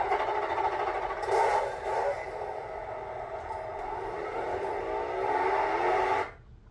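An ESS Dual+ sound module plays a simulated car engine as a steady, buzzing drone with a slight swell and waver, holding for about six seconds before cutting off abruptly, moderately quiet and with no voices.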